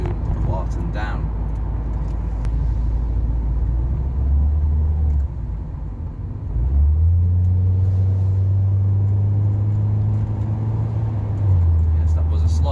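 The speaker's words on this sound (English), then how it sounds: "Yes, that was a slight kick down. It wasn't a full kick down, but automatic gearbox is nice and responsive." An automatic Ford Focus MK1 on a test drive: a steady engine drone briefly eases, then the gearbox kicks down and the engine note steps up to a louder, higher rev as the car accelerates.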